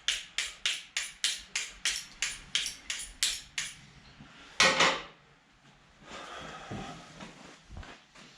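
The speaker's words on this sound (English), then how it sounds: "I'm gonna sharpen this a little bit again. Keep the edge on it." Hunting knife sharpened in a shop while skinning a whitetail deer: about a dozen rhythmic scraping strokes, evenly spaced and close, followed by a louder clunk and quieter handling noises.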